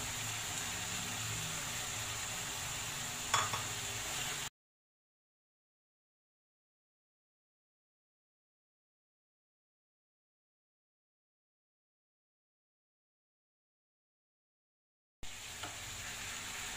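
Mushrooms added to a pan of sizzling red sauce for a no-bake lasagna and stirred, a steady hiss of frying with a scrape of the spoon, broken by a long silent gap before the sizzle returns.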